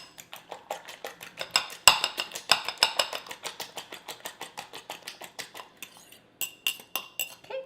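A utensil scraping and clinking steadily against a bowl while mixing ingredients for a Bengali breakfast, producing a fast, regular series of close metallic taps and chinks that keeps going for several seconds with a brief pause near the end.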